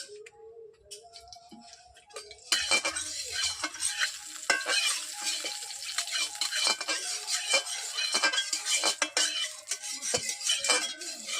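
Oil sizzles and crackles steadily in a hot wok, with a metal utensil clinking and scraping against the pan throughout.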